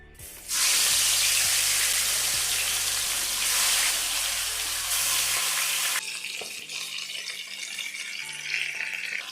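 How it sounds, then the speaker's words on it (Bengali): Fish hits hot mustard oil in a wok and bursts into a loud, continuous sizzle, which stays strong and then eases slightly, over a low steady hum. "কড়ার তেল আমি গরম করে নিয়েছি এবার মাছগুলো ভেজে নেবো"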